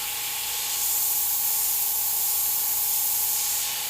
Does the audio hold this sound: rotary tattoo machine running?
no